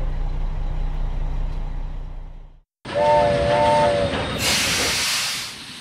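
A cartoon steam train hisses loudly, breaks off briefly, then lets out a steam whistle toot followed by a sharp rush of escaping steam, all close and without speech.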